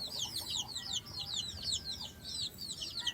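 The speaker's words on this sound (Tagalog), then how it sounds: "ito yung binigay sa akin na mga sisiw" Backyard chickens and young chicks cluck and peep continuously, with busy high chirping calls overlapping a low rustling background, fairly close and moderately loud, with no talking.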